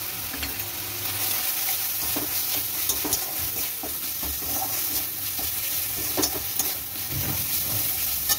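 Cumin and coriander powder with salt are stirred into spinach frying in a pan, producing a continuous close sizzle and hiss with repeated scraping stir strokes and occasional clacks throughout.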